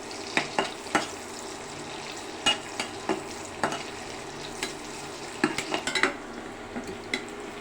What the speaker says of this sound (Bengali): রসুন, পেঁয়াজ, কাঁচামরিচ দিব, ভালো করে ভাজাবো।